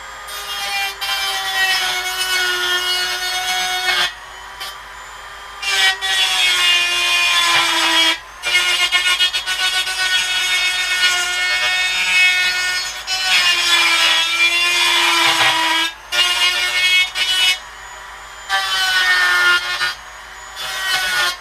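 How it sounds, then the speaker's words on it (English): A hand file rasping back and forth on metal, cleaning up square holes in a portable bandsaw stand; long steady strokes repeat in bursts separated by short pauses, loud and close. "And I'll give you a little bit of the filing."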